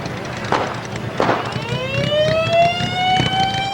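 A sheriff's car siren wails in Ridgecrest, California, rising in pitch and holding a high tone, over background traffic noise and faint voices.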